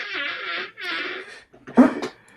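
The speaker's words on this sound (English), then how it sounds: "You're farting on the Doritos spaghetti and bacon meatballs?" A short, sputtering fart sounds near the end, after a stretch of drawn-out strained vocal noise.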